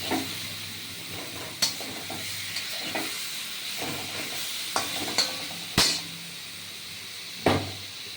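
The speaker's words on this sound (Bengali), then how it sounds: "আমটা ভেজে নেব দেখুন এই গুড় দিয়ে দিলাম" Mango pieces fry with jaggery in a pan over a very low flame, a steady soft sizzle running throughout, broken by several sharp scrapes and knocks as a spoon stirs against the pan.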